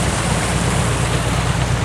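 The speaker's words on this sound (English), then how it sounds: "They got a little waterfall here" A small waterfall, a loud, steady, broadband rush of falling water close to the microphone, constant with no breaks.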